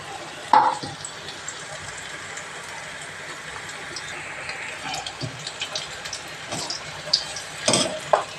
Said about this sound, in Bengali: এখন আমি এগুলোকে ভেজে নেব।